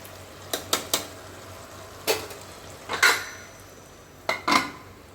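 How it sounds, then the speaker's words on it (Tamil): Chicken fry being stirred in a pan before covering, a ladle scraping and clanking against metal in sharp bursts over a soft background sizzle. "நல்லா கிளறி விட்டுட்டு மூடி வச்சிடலாங்க"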